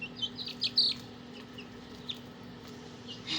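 Small chicks give a few high, thin chirps near the start and again at the end over a faint steady background hum.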